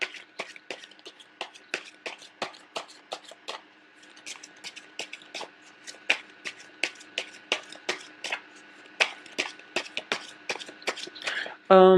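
Tarot cards are shuffled in quick, crisp flicks and taps, close and moderately loud, in an uneven rhythm that runs throughout. A louder sound cuts in at the very end.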